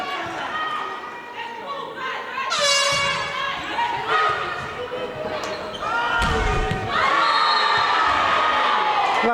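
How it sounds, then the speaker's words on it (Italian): A crowd at a women's Serie B2 volleyball match in Sicily cheers and applauds in a gym, with an air horn blaring, shouts and noisy rally sounds building into a loud sustained roar, under excited commentary. "E gli applausi credo che siano meritati per tutte le protagoniste"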